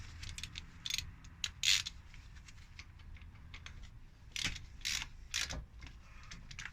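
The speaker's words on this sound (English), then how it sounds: "So put the ratchet to them." A ratchet tightens brake caliper bolts on a Honda CR-V during a brake pad change, giving faint, intermittent bursts of quick clicking against a quiet garage background.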